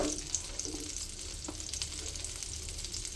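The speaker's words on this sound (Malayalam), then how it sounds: "ഇതിലേക്ക് ഞാൻ വെളുത്തുള്ളി അരിഞ്ഞത് ഇട്ട് കൊടുക്കണം." Chopped garlic sizzles in melted butter in a pan, giving a steady, close crackling hiss with faint stirring clinks throughout.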